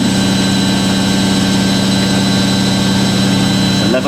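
A Hoover A3060 washing machine spins at 1100 RPM, giving a steady, loud low hum with a constant whine above it that holds evenly throughout, with no talk.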